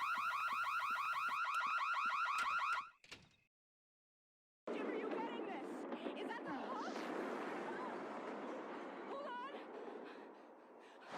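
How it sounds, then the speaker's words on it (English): A burglar alarm from The Sims video game blares in rapid, repeating electronic pulses for a few seconds, then cuts off to silence before noisy background sound resumes. "When he appears, a startling and fear-inducing song begins to play, as well as a loud alarm."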